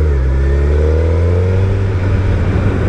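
A 2024 Suzuki GSX 1300R Hayabusa motorcycle engine drones loud and close, its pitch sliding steadily downward as the bike brakes and slows.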